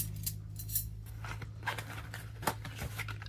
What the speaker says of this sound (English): Knife, fork, and spoon combo all attached here.